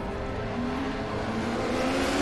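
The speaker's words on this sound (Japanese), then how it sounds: "バイクの音が 聞こえますね" A steady motorcycle engine drone in the video game Final Fantasy VII Remake, with a low, rough rumble, holding a fairly even pitch throughout, loud and continuous.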